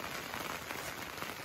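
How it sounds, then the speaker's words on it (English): Heavy rain pours onto a tarp sheltering campers in the Cabinet Mountains wilderness, a dense, even drumming close overhead with no break. "you can hear the rain. We're underneath this tarp hanging out and it is pouring rain."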